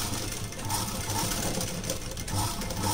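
A sewing machine stitching a fabric cord for a decorative dori, a fast, steady close mechanical whir and chatter running without pause.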